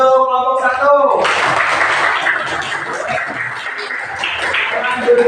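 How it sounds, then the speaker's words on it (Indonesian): A voice speaks briefly in a classroom, then a burst of student applause breaks out, a dense, lively clatter of many hands clapping that carries on for several seconds. "tepuk tangan untuk kelompok satu"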